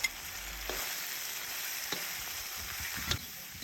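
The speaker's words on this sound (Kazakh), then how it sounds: "Енді бетіндегі шыжығын сүзіп алып, астындағы майға етімізді салып шыжғырамыз" Meat frying in rendered fat in a kazan for plov makes a constant loud sizzle, broken by a few spoon knocks and stirring scrapes.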